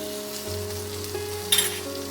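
Spices with salt and turmeric for a hilsa fish dish sizzle and fry quietly in a pan, a steady low hiss with a brief brighter scrape of stirring near the end and no talking.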